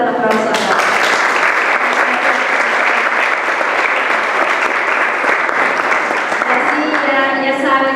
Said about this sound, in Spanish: Vamos a dar un aplauso a la...